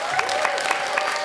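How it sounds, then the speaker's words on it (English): Brief burst of audience applause at a live film quiz podcast, dense clapping from a crowd with a faint voice underneath. "let's have a big round of applause to Ken Chen."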